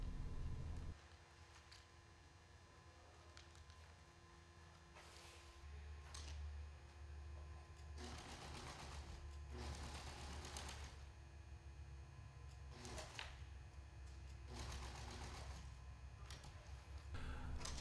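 A sewing machine stitches a sail patch and batten pocket along the leech, reversing at the corner, heard close as several bursts of rapid mechanical stitching of a few seconds each over a steady low motor hum, with no talking.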